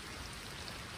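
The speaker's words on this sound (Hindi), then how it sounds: "बरसात ऐसे कम होगी और तेज होगी तो मुश्किल हो जाएगा" Rain falls on a shelter in a forest, making a soft, even, continuous hiss of many drops with no gaps, fairly faint and heard on its own.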